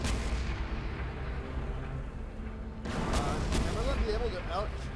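Artillery and gunfire in the video game Renegade X during a full assault on an obelisk, a continuous rumbling barrage that swells louder partway through with layered shots and mechanical noise, no voices.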